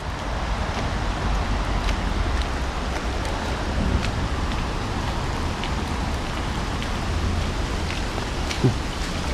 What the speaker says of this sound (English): Stuck in the rain, are you?